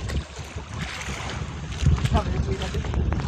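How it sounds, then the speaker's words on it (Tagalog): Gusty wind at sea buffets the microphone aboard a small fishing boat hauling a net, a rough rumbling roar that swells and dips unevenly, with a voice talking over it. "Maangin siya guys, pero kaya naman yung alon."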